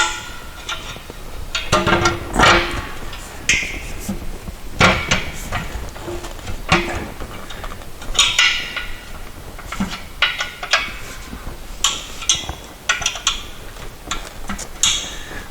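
Metal clanks, taps and ratcheting clicks come in irregular bursts as a painted motor bracket is bolted onto a Porter Cable 5 HP air compressor. The work sounds close by, with short pauses between the clusters of knocks.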